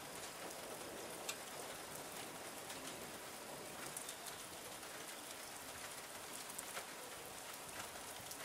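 Heavy rain pours down in a dense, constant hiss of drops striking surfaces, with occasional sharper spatters standing out, steady throughout with no voices.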